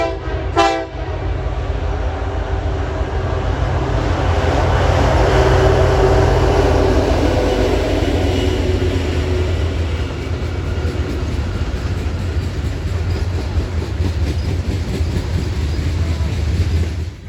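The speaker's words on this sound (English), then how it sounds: "39G is a daily manifest train from Camden, New Jersey, heading to Conway, Pennsylvania." Norfolk Southern manifest freight 39G passes Cresson on the Pittsburgh Line, opening with a loud horn blast, then a long, steady roar of locomotives and rolling freight cars with rhythmic wheel clatter, close by.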